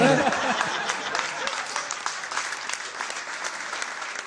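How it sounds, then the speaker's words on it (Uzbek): A comedy show audience breaks into steady, full applause that holds at an even level throughout, with a faint chuckle early on. "Qarsaklar."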